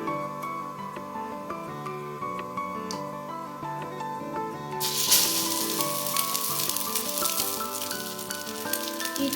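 Egg-dipped potato tikkis frying on a griddle, a soft continuous sizzle that swells louder and brighter midway as more pieces hit the hot surface, with tonal background music and no talking.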